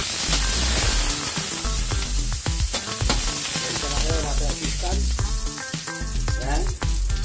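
Chopped onion sizzles in hot oil as it is stirred in a pan, a dense, loud crackle with steady scraping and clatter throughout, and a tonal background sound running underneath.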